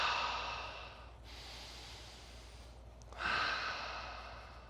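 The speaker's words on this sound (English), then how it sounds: "A few good breaths." Two deep, slow breaths come from a person during a yoga balance exercise for skiing. Each is a soft, airy rush, close and clear, separated by a quieter pause.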